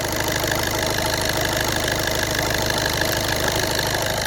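A VW/Audi-group diesel car engine, 1.6, 2.0 or 3.0 litre, idles while warming up, a steady close, even clatter with a faint rhythmic knock and no voices.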